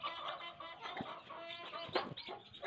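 Hens with their chicks cluck and fuss softly while out in the sun, a faint, steady stream of low clucks and small peeping calls.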